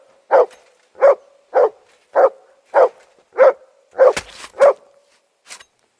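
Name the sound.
dog Mutt barking in video game Kingdom Come: Deliverance II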